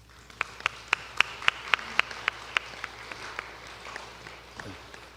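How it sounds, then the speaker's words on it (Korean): An audience claps in welcome for new members at a youth church service, roughly a dozen sharp, evenly spaced claps that fade out after a few seconds. "제가 이름 불러드릴 때 자리에서 일어나 주시면은 저희가 박수로 환영하는 시간 갖겠습니다"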